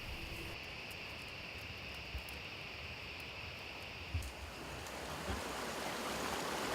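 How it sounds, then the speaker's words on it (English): Steady broadband rush of a foaming hill stream flowing down toward paddy fields, continuous and close with no voices. "The foaming stream that rushes down the hills not only feed the wet paddy fields"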